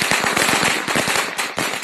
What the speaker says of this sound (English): Now, fireworks.